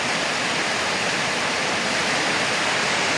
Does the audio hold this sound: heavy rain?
yes